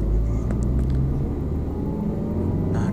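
Just after shifting into second gear, a manual car accelerates along a toll road, its engine rumbling loud and close in a steady, continuous drone.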